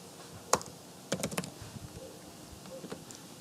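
Fingers type on a computer keyboard, a sharp isolated tap followed by a quick burst of keystrokes and a few scattered presses, close and clear in a quiet room.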